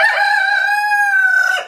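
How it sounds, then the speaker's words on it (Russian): A single loud, close rooster crow, one long sustained cock-a-doodle-doo call that tapers off abruptly at the end. "младших петухов за то, что они кукарекают"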